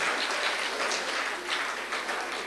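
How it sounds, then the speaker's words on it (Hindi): An audience at a talk applauds, and the clapping holds as an even, diffuse wash at moderate volume from start to finish. "आप ताली तो बजाइए कम से कम"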